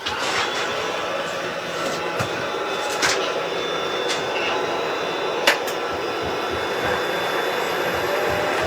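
A wood lathe turns a toffee dish while the surface is cleaned off, a steady broadband whir with scattered sharp tool catches and scrapes throughout.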